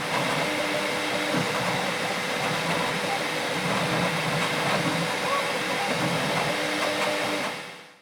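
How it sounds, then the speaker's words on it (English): An enclosed Bambu Lab P1S 3D printer runs with its cooling fans at full blast, giving a loud, steady whooshing fan roar that holds throughout before cutting off at the end. "The printer is not a silent machine, especially when the cooling fans are at full blast"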